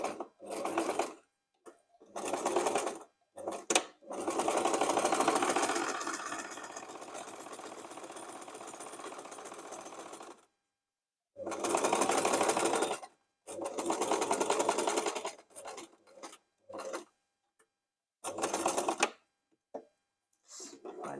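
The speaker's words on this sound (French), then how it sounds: "Je couds d'un côté et je vais coudre ensuite de l'autre." Domestic sewing machine stitching the long side of a fabric Easter basket, close and clear, running in repeated bursts of rapid whirring separated by silent pauses, with one long continuous run.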